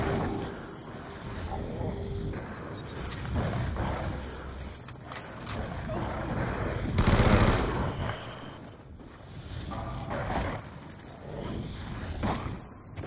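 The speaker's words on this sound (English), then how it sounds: "This LMG with rapid fire is amazing." An LMG machine gun on rapid fire in the Call of Duty zombies map Mob of the Dead, sustained chattering bursts amid a rumbling game soundscape, with a loud surge near the middle and speech faintly underneath.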